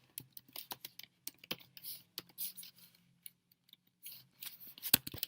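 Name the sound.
computer keyboard typing while writing Java code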